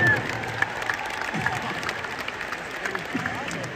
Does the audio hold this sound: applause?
yes